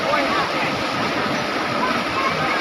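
River at Mesar village in Patan swollen with released water after heavy upstream monsoon rain, a steady loud broadband rush of flowing water filling the whole clip without break.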